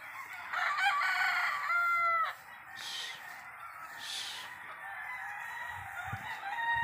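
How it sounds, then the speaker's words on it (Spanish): Breeding roosters and chicks in their pens crow and cluck nearby; a loud crow opens the scene, followed by softer clucks and calls. "Vamos a mostrarle los pollitos de aquí de Cabechonchito"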